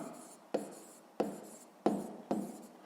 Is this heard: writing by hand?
yes